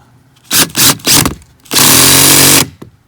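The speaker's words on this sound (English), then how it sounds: "Gonna go ahead and full force ahead with my biggest bit." A power drill bores a hole with its biggest bit while mounting an outdoor smart camera, three short loud whirring bursts followed by a longer sustained grinding run, close and loud.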